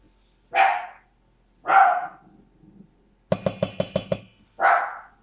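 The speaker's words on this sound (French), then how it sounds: "Oh, ma petite jappeuse!" A small dog barks in sharp single yaps, three spaced apart, plus a quick burst of about six rapid yips, close and loud in a quiet kitchen.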